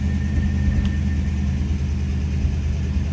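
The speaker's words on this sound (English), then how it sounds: "a nice little rumble coming out of that rocket V8" A 1951 Oldsmobile 98 Holiday coupe with its Rocket V8 idling, a steady low rumble held close and even throughout with no talk over it.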